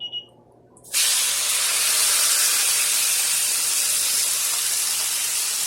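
Marinated steak laid into a hot pan, a near-silent moment then a sudden loud, sustained sizzling hiss that continues strongly without pause, no talking.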